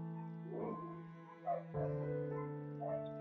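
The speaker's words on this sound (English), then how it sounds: "My dog going crazy outside" A dog barks and yips outdoors, a few muffled, tonal barks at moderate distance, fairly faint, with no talking over them.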